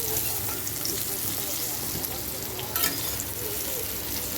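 Pieces of pointed gourd fry in hot oil, giving a steady close sizzle with soft stirring scrapes and one brief sharper crackle near the end.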